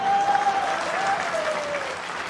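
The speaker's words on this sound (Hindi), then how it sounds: "पर ताली बजाने से होगा क्या?" Applause from an audience at a political speech in Madhya Pradesh, a dense burst of clapping lasting about two seconds, loud and continuous and then tapering slightly.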